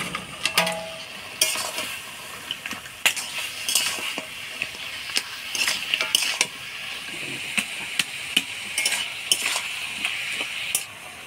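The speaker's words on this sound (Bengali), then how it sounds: "এবার ভাজা মাছের মুড়াগুলো দিয়ে দেবো।" Fried fish heads go into a pan of cooking radish greens and are stirred. A soft sizzle carries under repeated clinks and scrapes from the spatula against the pan, sounding close and busy, with no talking.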